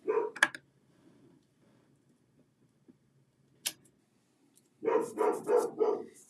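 Dogs at home give a short bark near the start and another single yelp midway, then break into a burst of quick barking at the end, fairly close with quiet gaps in between.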